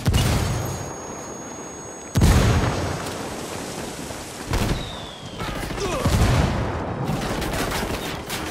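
Gunfire and a grenade explosion in the military shooter game Ghost Recon Wildlands: loud, heavy booms recur every couple of seconds over a continuous roar of rattling shots, dense and close throughout.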